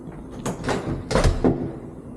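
An old back door in a house being unlocked and opened, giving a few close knocks and rattles with a short creak or scrape, with no talk over it.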